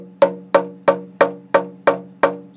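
The uncoated half of a walnut and cedar acoustic guitar is tapped seven times at an even pace. Each close, crisp knock leaves a short pitched ring that quickly dies away.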